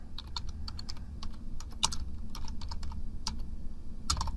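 A computer keyboard is typed on in short bursts, crisp close key clicks coming in uneven runs over a low steady hum of the room.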